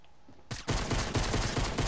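Pistol gunfire in the video game Fortnite, a rapid, loud burst of shots fired back to back after a brief quiet start, dense and close.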